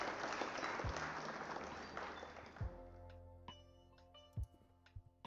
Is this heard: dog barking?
no